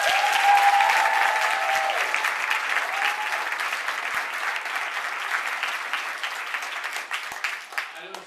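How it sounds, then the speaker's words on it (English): An audience at a social media moms event claps for the Disney cast, a sustained wash of applause that gradually thins into scattered claps, with a voice briefly audible beneath it. "So can we just clap for them a little bit?"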